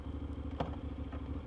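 Honda NC750X motorcycle engine idling, a low, steady, pulsing thrum with faint mechanical clatter, fairly quiet and heard alone without speech.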